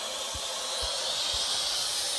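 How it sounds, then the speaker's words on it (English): Water from a gas water heater tank in an attic drains into a bathtub with a steady, faint hissing rush. A few soft low thumps sound early on. "We're running it into the tub until it's clear, because there's a whole bunch of gunk,"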